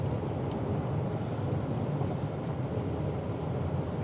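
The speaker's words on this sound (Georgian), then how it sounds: "გრუზავიკს უნდა ჩაუაროთ ერთი და ვნახოთ ეხლა რას იწევს" Steady broad road roar from inside a 2024 Mercedes W463 G500 as it passes a truck, a dense continuous rumble of tyres and wind with no voices.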